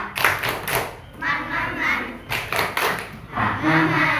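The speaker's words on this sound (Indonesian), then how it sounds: "Tepuk Pak Maman" Rhythmic clapping chant from a class of fourth-grade children in a school lesson, loud and close, with bursts of claps alternating with the children's chanted voices.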